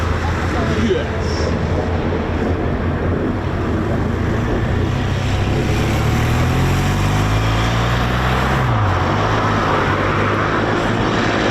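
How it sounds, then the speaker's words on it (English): A military jet passes over RAF Coningsby airfield during a flying display, its loud broad engine roar filling the whole clip with a falling tone as it goes by, heavy wind buffeting, voices faintly present. "Looks like an F-15 that just went over."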